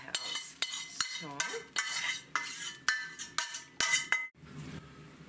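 Fried onions, browned in a pan, are scraped onto a plate for beef roulades, giving a string of sharp metallic clinks and scrapes of utensil against pan and dish, close and fairly loud, with no talk.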